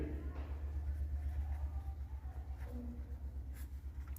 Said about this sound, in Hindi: अब यहाँ लिखेंगे यूक्लिड